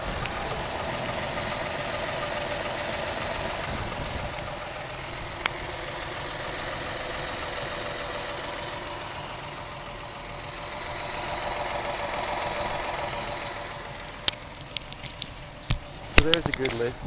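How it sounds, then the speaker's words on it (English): A 1952 Mercedes-Benz 300 Cabriolet D with twin Solex carburetors idles with the microphone down by the engine, giving a steady, close mechanical hum with light knocking texture and a few sharp clicks near the end. "I'll get the microphone down by the engine itself, and we can get a good listen to it running as it idles."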